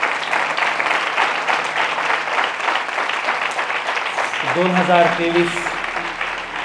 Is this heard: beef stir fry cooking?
no